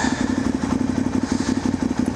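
A KTM 990 motorcycle engine runs close by, a steady rapid pulsing thump with mechanical clatter, loud and alone.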